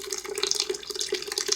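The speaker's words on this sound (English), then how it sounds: "fill this pitcher up, put some fresh water in" Fresh tap water runs into a pitcher, a steady splashing stream heard close and alone.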